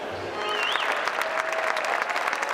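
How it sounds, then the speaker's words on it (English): Steady applause from a gathered crowd at the outdoor unveiling of a Richard Lugar statue, dense clapping that holds evenly throughout with a faint whistle rising briefly near the start. "Applause filled the air as the new Richard Luger statue was shown for the first time"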